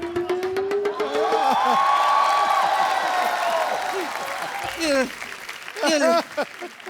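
Studio audience on The Kapil Sharma Show breaks into a sustained wash of clapping and cheering, heard beneath and between loud, lively speech and laughter from people on stage.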